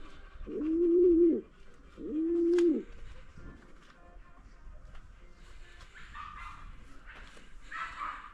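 Pigeons in a garage give two loud, drawn-out coos close by, one after another. Faint scattered background noise fills the quiet that follows.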